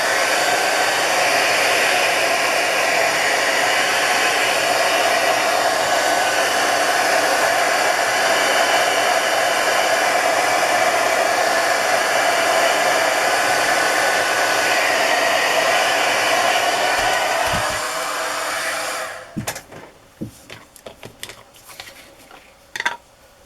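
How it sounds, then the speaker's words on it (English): A hair dryer blows steadily and loudly at close range for about eighteen seconds, drying ink on a journal page, then shuts off, leaving a few light clicks and taps of handling. "So I'm just going to dry that real quick."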